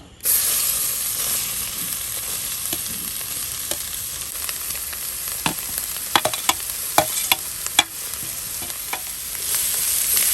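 Grated carrot sizzles and fries in ghee for carrot halwa, with steady close crackling and repeated scraping stirs of a spoon against the pan throughout, no voices.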